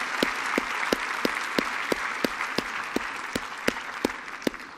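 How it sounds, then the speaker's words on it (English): An audience at a medical society's presidential address claps in a round of applause for a speaker, heard as dense, steady clapping from a crowd with a few sharper individual claps standing out in a regular beat. "Please, another round of applause for Dr."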